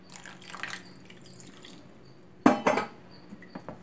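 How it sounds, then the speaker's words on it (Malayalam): A quarter cup of water poured into a creamy okra (shahi bhindi masala) gravy, heard as one short, sharp splash about midway, then a few faint drips against a quiet kitchen background. "നമുക്ക് ഇതിനകത്തേക്ക് ഒരു കാൽ കപ്പ് വെള്ളം കൂടി ഇതിനകത്തേക്ക് നമുക്കൊന്ന് ആഡ് ചെയ്ത് കൊടുക്കാം"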